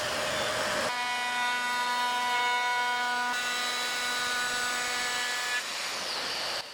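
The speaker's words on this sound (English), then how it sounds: "I'll give them a pretty heavy round over with a bit that's 11 millimeters in radius." A router with an 11 mm radius round-over bit shaping the horizontal wooden edges of a sofa: a loud, steady high-pitched whine that holds for several seconds, then spins down near the end.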